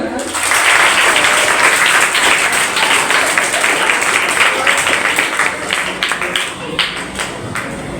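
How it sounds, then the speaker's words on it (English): An audience at a school debate competition gives loud, sustained applause with dense clapping that tapers toward the end, with voices audible in the crowd. "Clap for her."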